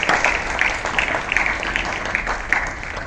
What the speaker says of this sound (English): Give a big applause for yourself and to the president.